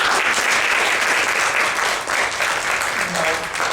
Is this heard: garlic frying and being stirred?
no